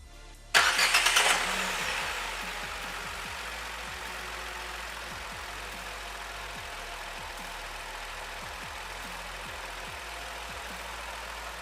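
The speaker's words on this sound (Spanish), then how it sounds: "A continuación le daremos marcha al vehículo." A car engine cranks and catches with a sudden roar, then settles into a steady idle that runs on alone, close and even.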